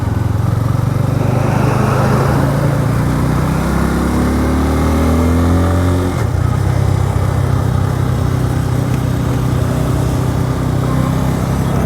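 A Bajaj Pulsar N250 V2 motorcycle engine revs up through the gears on a test ride, its rising drone climbing steadily, dropping at a shift, then pulling again under constant wind rush, close and loud.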